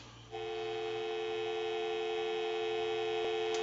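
Steady telephone dial tone from an AE Space Maker 183 phone after its repair conversion, starting just after a quiet moment and holding as an even, unbroken tone.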